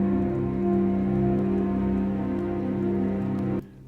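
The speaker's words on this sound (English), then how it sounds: "these are both from Gravity, the Submariner and Oceans effects." Ambient soundscape effects named Submariner and Oceans from the Gravity library: a dense, steady wash of sustained tones and hiss with faint droplet-like ticks, running evenly under a pad before cutting off abruptly near the end.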